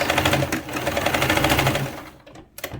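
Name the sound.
sewing machine backstitching at end of seam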